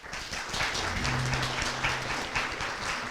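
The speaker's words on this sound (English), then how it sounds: "please give them all a round of applause" Audience applause closing a New Mexico House District 60 election forum, a steady wash of many hands clapping for about three seconds, with a low hum running underneath.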